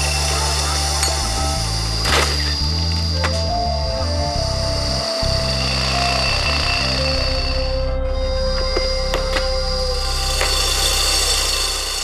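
Compressor-driven pneumatic drills bore into solid pink granite rock at a dam construction site, giving a continuous loud hammering rattle with a steady mechanical drone and occasional sharp knocks.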